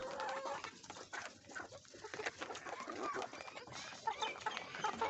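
Hens in a backyard coop peck and cluck while eating soaked roti bread, with soft, busy, irregular clucking and scratchy feeding noises close by and fairly faint overall.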